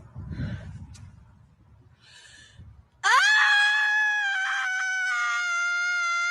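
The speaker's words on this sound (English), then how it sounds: "That's like a 6 out of 10 scream." A woman's scream from a played video, a long, loud, sustained piercing cry that starts abruptly after a few seconds of muffled background voices and holds steady to the end.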